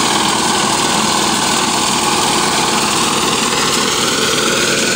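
A Husqvarna grass sod cutter's small engine runs loud and steady throughout with a constant high-pitched drone and mechanical rattle, close by and uninterrupted, with no speech.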